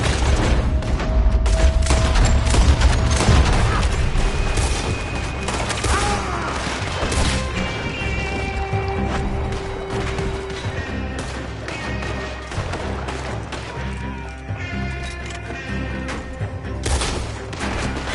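Dense, continuous gunfire from a Red Dead Redemption 2 shootout: rapid overlapping shots and booms at close range, loud throughout, with a brief voice mixed in.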